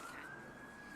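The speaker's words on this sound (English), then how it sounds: "The siren." A police siren holds one steady high wail, fairly loud and continuous over a busy street-like background, with no talk.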